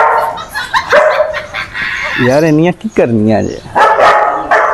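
Dogs bark in a quick run of sharp, yelping barks mid-clip, loud and close, while someone talks over and around them.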